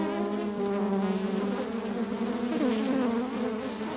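Honeybees in the bottom box of an opened hive in late winter buzz in a dense, steady hum close by, with individual bees whining past and no voices.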